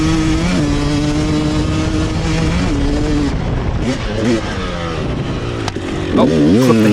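Enduro dirt bike engine at a race start on a muddy course, a loud steady drone that rises in pitch as the rider accelerates up a hill, heard close up for several seconds.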